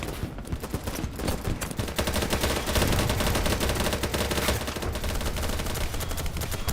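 Dense, sustained automatic gunfire in a war video game, a steady loud rattle of rapid shots filling the scene with no pause and no talking.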